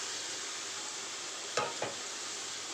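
Chicken with spices being stir-fried in a pan gives a steady, close sizzle. Two brief scraping knocks of a spoon against the pan break through the hiss.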